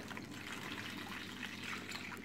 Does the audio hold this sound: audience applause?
no